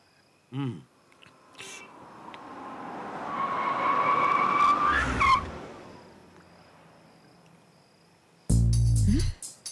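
In a South Indian film scene, a car approaches with a rising engine roar that swells, then a brief tire skid and sharp stop, followed by quieter moments and a loud final burst.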